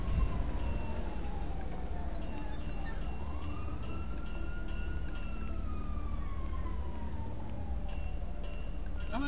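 Police sirens wail continuously in the video game GTA, one sweeping tone rising and falling over a steady low rumble of traffic or engine noise.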